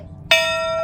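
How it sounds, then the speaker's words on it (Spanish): The bell of love at Enoshima struck once after near silence, a sharp metallic clang that settles into a bright sustained ring, close and fairly loud. "Pero dale a la campana después."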